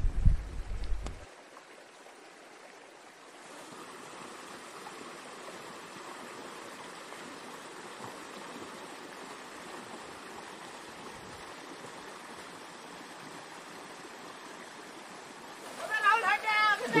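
Flowing water drives a traditional Uttarakhand gharat water mill beside a river: a steady, even rushing hiss continues throughout, with brief louder bursts and a voice at the very start and end.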